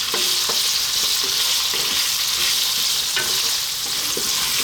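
Raw potatoes fry steadily on lively heat for a potato mushroom curry, a loud continuous sizzle broken by repeated scraping stirs of a spoon through the pan, close and with no talking.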